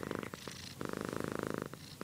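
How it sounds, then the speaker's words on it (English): A fluffy domestic cat purrs close to the microphone, a loud, steady rumbling purr with a fast pulsing rhythm that pauses briefly for breaths. "today we are going to do an interview on Lacy the fluffy kitty"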